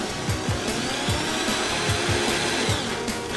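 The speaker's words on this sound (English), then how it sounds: "Shove this in the hole here, then start drilling." Power drill bores into brick while a dryer vent is replaced, a steady grinding whir with rhythmic low thuds repeating throughout, close and loud.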